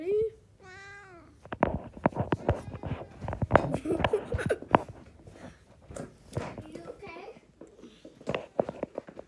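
A cat meows a few times early on, then clattering knocks and thumps follow, with voices scattered throughout.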